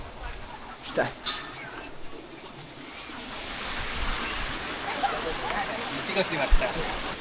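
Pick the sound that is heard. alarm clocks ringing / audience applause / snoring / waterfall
waterfall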